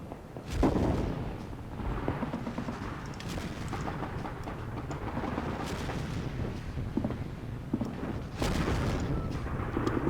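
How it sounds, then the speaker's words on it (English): Artillery fire in the Army Men of War strategy game: repeated booming shots and thuds over a dense, continuous battlefield rumble, with sharper blasts standing out at intervals. "That green artillery is very effective."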